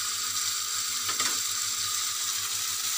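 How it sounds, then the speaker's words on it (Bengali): A bowl of water tipped into a pan of potatoes frying in oil with spices makes a constant loud sizzling hiss, with a brief surge of bubbling midway. "1 বাটি জল দিয়ে দিলাম।"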